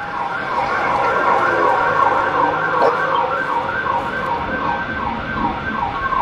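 A police siren wails, rising and falling continuously, loud and close, with traffic noise underneath and a brief voice in the mix.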